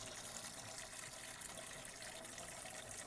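Slow, steady trickle of water drawn through an aquarium gravel vacuum pushed into the soil substrate, a soft continuous wash of flow with no talk.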